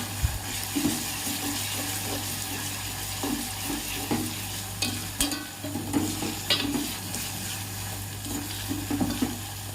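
Brinjal pieces sizzle and fry in a pan while a utensil stirs them in repeated scraping strokes, steady and close, with a low constant hum beneath and no talking.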